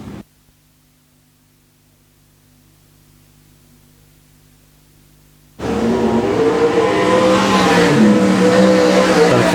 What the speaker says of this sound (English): Cars have been given the signal to form up.